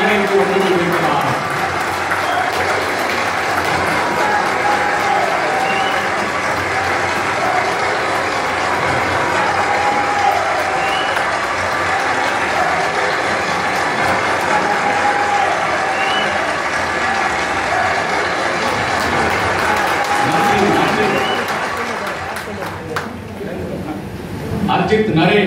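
A hall audience at an anniversary celebration honoring students applauds a young doctor walking to the stage, a long sustained clapping that holds steady, then thins near the end as a voice speaks over it.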